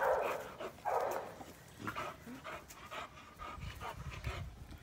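A four-month-old chocolate pit bull puppy pants in quick, close bursts, with a few small yips and whimpers mixed in, sounding excitable and restless.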